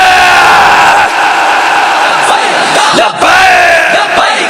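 Large crowd at an Urs gathering at Awan Sharif loudly chanting a religious slogan in unison, a dense continuous roar of many voices with rising and falling shouts.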